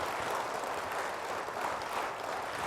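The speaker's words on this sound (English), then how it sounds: "So can we give a round of applause this way?" A large audience at a corporate employee event gives steady, dense applause, a continuous even roar of many hands clapping together with no voices standing out above it.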